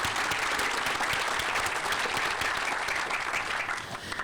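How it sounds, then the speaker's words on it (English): Enthusiastic applause from a crowd at a sports park groundbreaking ceremony, dense and sustained for several seconds before tapering slightly at the end. "So just another round of applause for the Growth Alliance."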